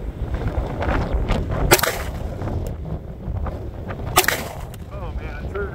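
Glock striker-fired pistol shot outdoors in extreme cold by a shooter in thick gloves, two sharp loud reports about two and a half seconds apart over steady wind noise and rustling.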